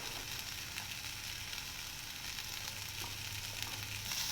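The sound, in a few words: masala being stirred into cooked tomatoes in a sizzling pan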